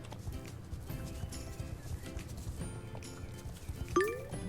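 Horse hooves clip-clop at a steady walking rhythm during a ride in the video game Star Stable Online, moderately close over soft game music, with a brief whinny near the end.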